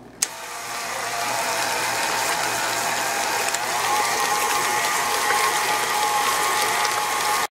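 An electric mixer beats eggs into peanut butter cookie batter, a loud, steady mechanical whir with a rattling, grinding edge that runs continuously for several seconds after a sharp start, with no talk.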